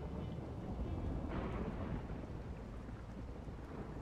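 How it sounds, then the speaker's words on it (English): Rain falling in the video game RimWorld, a steady dense wash of rain noise with deep low rumbling underneath, continuous and fairly loud throughout. "the rain started, so that should put fires out"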